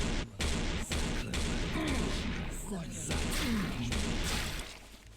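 Rapid blasts from an auto shotgun in the video game Serious Sam 4, loud repeated gunfire and crashing impacts that run almost without pause, with someone talking over the shooting.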